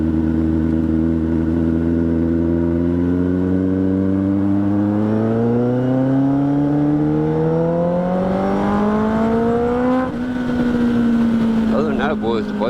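A Kawasaki ZX10R superbike with an aftermarket tune revs steadily upward, its engine note climbing smoothly and loudly over about ten seconds before easing off, with no voice over the sound.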